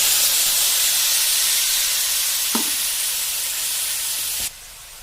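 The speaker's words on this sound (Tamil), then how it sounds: "அந்த தண்ணியை ஊற்றுறேன்." Water poured into a hot pan of sautéed ground tomato masala for masala chapati, giving a steady loud steaming hiss and sizzle that cuts off abruptly near the end.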